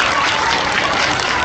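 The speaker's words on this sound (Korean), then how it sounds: "박수." Children's audience at a church camp sermon breaks into brief, dense applause, loud and close, filling the room in a short continuous burst.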